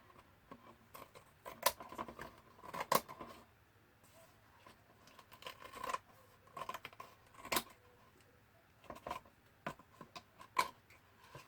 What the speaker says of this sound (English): this loose stuff here I'm going to just cut out with a pair of scissors